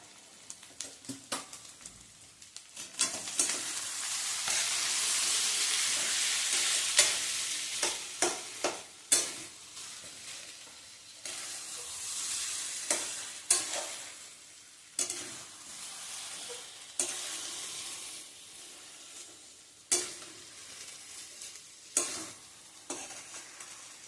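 Potato bhaji is sautéed in a pan, with a soft hiss of frying under repeated sharp scrapes and knocks of a spoon stirring, irregular and fairly close, with no speech.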